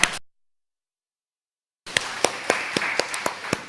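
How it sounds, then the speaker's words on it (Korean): After a brief silence, a church congregation breaks into clapping, with sharp, fairly even beats repeating over a continuous bed of many hands. "우리 주님께 영광의 박수 올려드리겠습니다"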